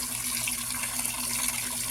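Free-flowing water running steadily from an outdoor source used for drinking and washing, a loud continuous rushing gush with a low steady hum beneath, no voices.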